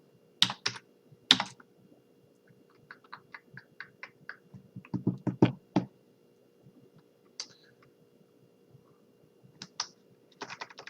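Code is typed on a computer keyboard during Unity 2D game development, with irregular bursts of crisp key clicks, some rapid runs and some single presses, close up in an otherwise quiet room with a faint steady hum.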